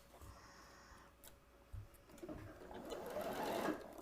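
A sewing machine runs steadily, stitching through fabric for a short stretch, fairly quiet and close with no talking.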